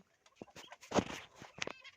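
A white quail gives short, sharp clucking calls in a few scattered bursts, close and fairly clear against a quiet background.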